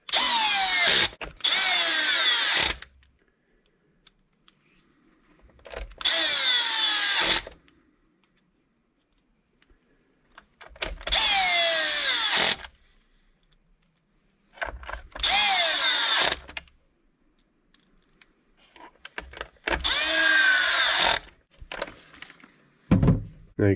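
Power drill driving screws into an RC truck chassis while reassembling the front end, five separate whirring bursts of about two seconds each, close and loud, with quiet gaps and small handling clicks between them.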